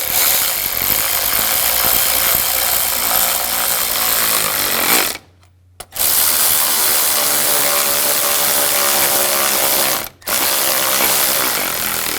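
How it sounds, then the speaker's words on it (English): A ratchet tightening bolts on the radiator fan assembly of a 2004-2009 Audi A4, a loud continuous mechanical clicking that runs for seconds, breaks off briefly, then resumes, close to the microphone. "Now tighten down the bolts."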